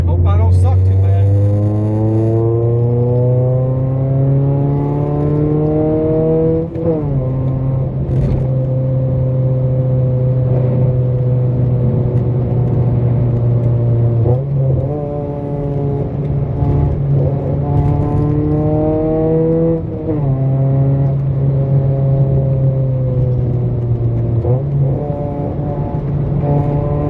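A cheap, worn manual Honda car accelerates hard through the gears, its engine drone climbing in pitch, dropping at each of three shifts, then climbing again, loud and close throughout.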